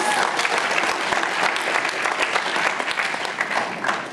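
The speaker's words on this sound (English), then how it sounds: "if we can give them an extra round of applause" A crowd applauding steadily at a speech night, dense clapping at a constant level throughout.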